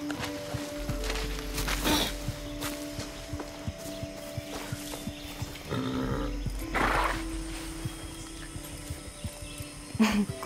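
A horse in the game Far Cry 6 snorts and shuffles, with hoof clops and a short whinny over steady ambient game noise, while a voice speaks briefly.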